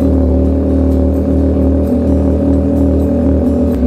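A big-bike motorcycle, unused for three days, runs after a cold start with a loud, steady, close engine rumble that holds at a high idle, with no talk.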